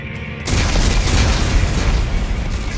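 Explosives detonate in Dead Space 3: a sudden, heavy boom erupts after a brief quiet moment and rolls into a loud, sustained, roaring rumble.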